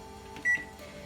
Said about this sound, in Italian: posizionare i nostri aranci nel microonde